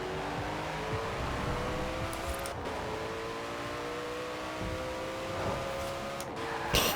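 A Koenigsegg in Forza Horizon 4 drones at steady engine pitch with slowly rising harmonic tones, a continuous moderate whine with a couple of brief clicks, no talk.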